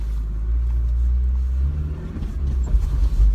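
An old Daihatsu four-wheel drive crawls along a slippery forest track, its engine a deep steady low rumble from inside the cab with small surges and bumps.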